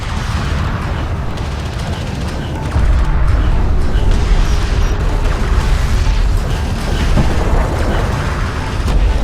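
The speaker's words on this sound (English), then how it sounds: "Enemy railgun firing on friendly." Railgun fire and explosions in the video game Homeworld: Deserts of Kharak: a dense, continuous barrage of booms and heavy rumbling that grows louder partway through, with faint voice chatter mixed in.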